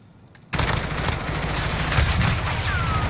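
Dense, continuous automatic gunfire from the Call of Duty Warzone video game, rapid bursts layered over each other after a brief quiet start, loud and sustained with no talk.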